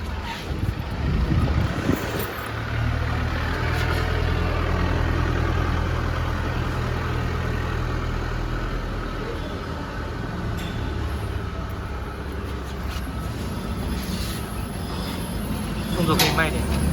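A PP string wound filter cartridge machine running at 20 inch, a steady low mechanical hum and drone that carries evenly throughout at moderate loudness.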